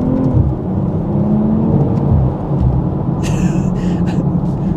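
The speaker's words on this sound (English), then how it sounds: "The downshift blips are quite nice." A 2022 BMW M440i Convertible engine rumbles close by, with a few short throttle blips on downshifts rising briefly over the steady drone. No one speaks.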